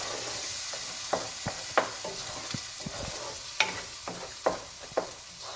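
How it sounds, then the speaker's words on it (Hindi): Spinach is stirred into a spiced mixture in a pan, with a steady soft sizzle broken by about a dozen sharp scraping clicks of a spoon against the metal, close and moderately loud, with no voices. "अब इसमें जो हमने पालक मिक्स की थी वो डाल देंगे। इसको मिक्स करेंगे इन मसालों के साथ, अच्छे से मिक्स कर लेंगे।"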